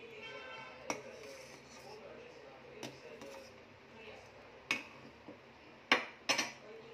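Food being served from a pot with metal utensils, a few sharp clinks and scrapes of spoon on pot spaced through a quiet stretch, the loudest pair near the end, with a faint voice in the background.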